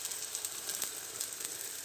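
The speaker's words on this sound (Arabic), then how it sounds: "كنجيب الزيت كنرمي الزيت عليها وكنقلبها" Rghaif flatbread frying in oil in a pan, giving a steady close sizzle with soft crackling pops throughout, no voices.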